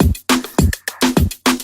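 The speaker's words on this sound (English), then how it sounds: "And then I got all these percussion going on." Layered percussion samples in a reggaeton beat, bright clicky hits and short tonal pops stacked over kick thumps in a steady syncopated groove, loud and close with no talking.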